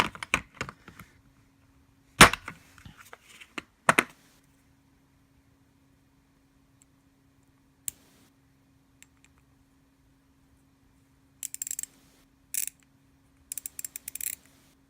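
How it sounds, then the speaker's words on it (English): A Capri Tools sealed-head 72-tooth ratchet gives off quick, fine clicking bursts, close and fairly quiet, separated by near silence. "Nice smooth ratcheting mechanism."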